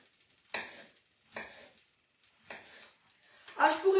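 Food cut into small pieces with a knife in a home kitchen: four separate cuts, each a short crisp stroke, evenly spaced about a second apart and heard close up, with a brief bit of talk at the end.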